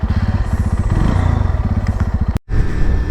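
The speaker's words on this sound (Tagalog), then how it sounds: "So tara, subukan natin ito sa isang arangkada." A SKYGO Magnus 200 cruiser motorcycle accelerates hard, its engine pulsing in a rapid, steady rhythm close by and loud, with a brief cut near the end before the drone resumes.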